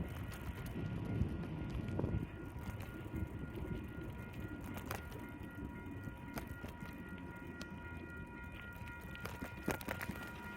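A train rolls past a road crossing with a continuous low rumble and rattling wheels, heard over wind noise from a moving bicycle.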